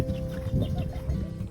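Low, muffled clucking from chickens, short and close, with a faint steady hum underneath.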